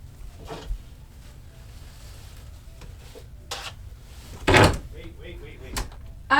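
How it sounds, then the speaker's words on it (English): A door is opened indoors with a short, loud clunk and rattle. Scattered small clicks and knocks sound before and after it in an otherwise quiet room. "You're good to open the door."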